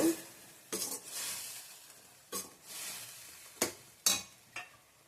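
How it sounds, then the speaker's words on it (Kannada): Quiet sizzling of masala roasting in a pan broken by several sharp scrapes and knocks of a spoon stirring, irregular and close. "ಒಂದೆರಡು ನಿಮಿಷ ಹುರ್ಕೊಬೇಕು"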